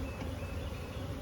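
Steady, close buzz of honey bees crawling and flying around opened hive frames, a continuous hum with no talk over it.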